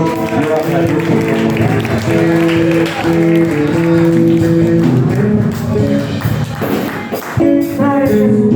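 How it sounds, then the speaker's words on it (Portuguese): Church congregation clapping in praise during a worship service, sustained rhythmic hand claps from many people mixed under loud sung or amplified voices and instrumental tones, continuing the whole stretch. "E as palmas louvam ao Senhor"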